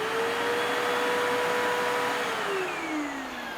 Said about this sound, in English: Next, we're going to try the 12 amp vacuum.